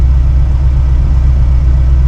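A TKX car engine fitted with Holley Sniper 2 EFI idles at operating temperature, a steady low rumble held loud and close without change.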